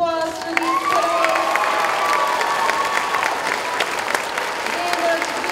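Audience applause for fifth graders at an elementary school completion ceremony, sustained dense clapping mixed with cheering, whoops and children's shouts, filling the room loudly throughout.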